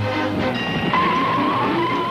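Volkswagen Beetle car peeling away with tires squealing, a sustained loud screech with steady engine noise throughout, brief and close.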